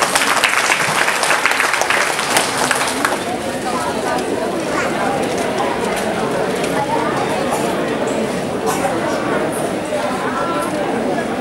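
An audience applauds at a Bunts Sangha community stage event in Mumbai. The clapping is loud, dense and sustained and stays steady throughout, with crowd chatter mixed in underneath.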